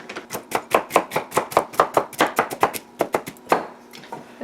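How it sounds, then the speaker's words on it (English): Walnuts are chopped with a rocking ulu knife, or mezzaluna, on a board for baking, producing a close, rapid, even series of sharp crisp knocks that stop near the end. "This is my favorite way to chop nuts for baking"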